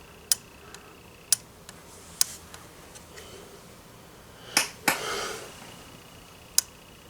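Faint, irregular ticks and light clicks come from an old Airline tube radio's dial in a quiet room, with a brief scraping rub near the middle from an overlong set screw rubbing the rotating dial ring.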